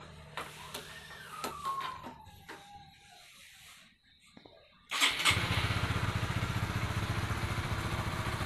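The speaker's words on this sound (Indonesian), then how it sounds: "Oke, kita nyalakan dulu motornya." A Honda CB150R motorcycle engine cranks and catches, then settles into a steady, loud, close-up idle with an even pulsing beat; faint clicks and a brief whine come before the start.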